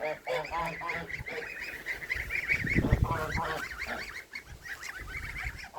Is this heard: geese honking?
yes